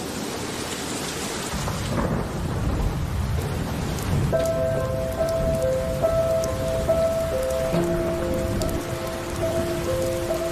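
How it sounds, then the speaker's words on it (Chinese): Thunder rumbles low and heavy over steady rain falling on surfaces. The storm noise fills the whole stretch, and a thin sustained tone joins partway through. "快打雷，好像我刚刚有听到"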